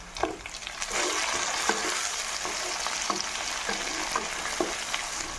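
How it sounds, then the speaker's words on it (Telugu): Tomato pieces dropped into a hot pan of frying onions for chicken curry, with a loud steady sizzle and intermittent scraping stirs close by. "ఇప్పుడు టమాటా ముక్కలు వేసుకుందాం."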